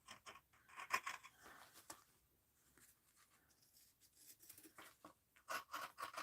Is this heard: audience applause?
no